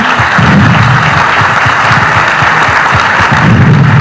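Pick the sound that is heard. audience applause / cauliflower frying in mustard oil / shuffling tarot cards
audience applause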